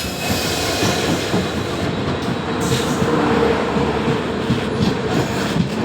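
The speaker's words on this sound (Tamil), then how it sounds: "Tambaram Sengottai super fast express நம்ம இது பண்ண வருது கைஸ்" Tambaram–Sengottai superfast express hauled by a WDP4 diesel locomotive arriving at Ambasamudram, a continuous loud rumble and clatter of rolling coaches close by.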